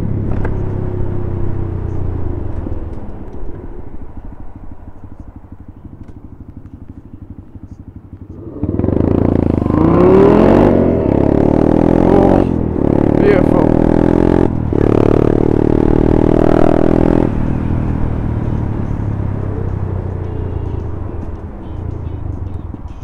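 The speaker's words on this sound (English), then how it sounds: "I'm going this way just to hear that exhaust again." Aston Martin car exhaust roaring loudly as it passes close by, a low rumble building into a sustained, throaty roar with rising revs that stays strong before easing off slightly.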